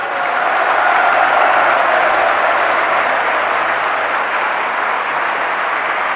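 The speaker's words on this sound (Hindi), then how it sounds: "तालियां बजाई थी, एक बार फिर बजा दो।" A large audience at a Jain sermon applauds, a dense, loud, sustained wash of clapping that holds steady throughout.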